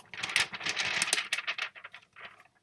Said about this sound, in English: I don't know if you heard that, but I was shaking a piece of paper.